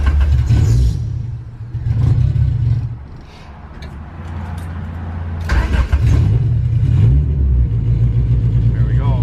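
A Honda B18C1 turbo engine in a Civic Si swapped with a Precision turbo, cranking and catching, then idling rough and rich with a steady low rumble, dipping briefly before catching again, with people talking over it.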